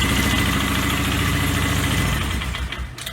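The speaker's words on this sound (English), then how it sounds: "She'll idle all day long like she's supposed to" A Polaris ATV engine idles steadily on its own after an electric start, a close, continuous low rumble with no throttle input, easing off slightly near the end.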